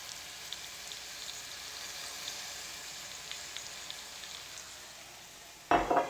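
Noodles stir-fry with soy sauce in a pan, a soft, steady sizzle with light scraping from stirring, then a sudden louder clatter and hiss at the very end.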